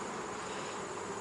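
Honeybees at a hive during a hive check, feeding on syrup, make a steady, dense, close buzzing hum that holds evenly throughout, with no talking.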